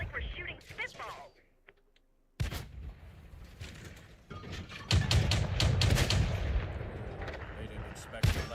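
Tank cannons fire in the video game World of Tanks, sharp booming blasts with rumbling tails over a dense, busy battle mix, while a person talks during the action.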